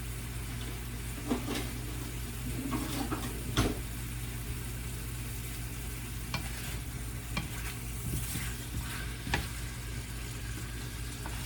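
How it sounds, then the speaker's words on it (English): Steady sizzling of pork chops frying in a metal pan, with occasional scraping and clinking as they're stirred, and a constant low hum underneath. "I don't want to make too much noise stirring. And this is a metal pan"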